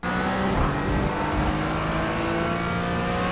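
A Porsche 718 race car in the iRacing simulator brakes hard in a straight line on the Circuit of the Americas, its engine tone dropping steadily under a dense, continuous roar, loud and close, with no talk.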